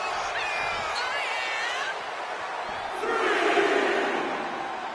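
In a WWE 2K26 wrestling match, a game arena crowd cheers for Orton, first as a steady murmur and then swelling louder near the end.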